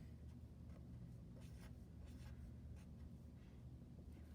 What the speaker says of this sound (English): So again, I'm just going to draw Mr. Sleepy Bear.